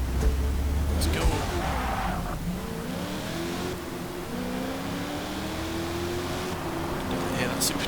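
Supercharged V8 engine of a street muscle car on sport tyres in Forza Motorsport, revving and pulling hard through gears with a rising, whining drone under continuous talk.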